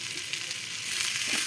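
Ground spices, including garam masala powder, fry in a pan while being stirred, producing a soft, steady sizzle that grows slightly louder toward the end, with no talking.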